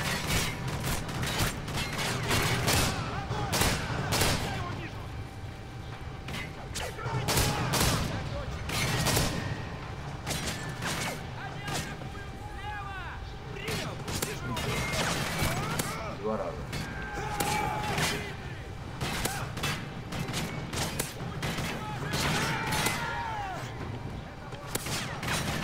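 Rapid bursts of gunfire from a Kalashnikov rifle in a video game, dense volleys and clattering shots repeating almost continuously at close range with game noise around them.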